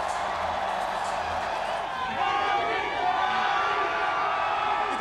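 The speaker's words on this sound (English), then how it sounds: "The crowd is crazy." A huge crowd at the Toronto Raptors championship parade cheers and whoops in a steady roar, heard at a distance with no clear talk on top.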